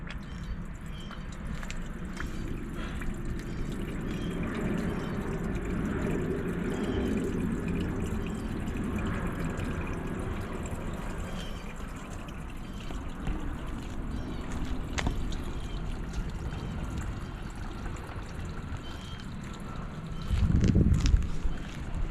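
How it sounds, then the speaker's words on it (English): Water runs steadily into a channel drain outlet, a soft continuous wash and trickle that holds evenly for the whole stretch, with a brief louder gush near the end. "let's just run some water in here and see if we can get anything happening"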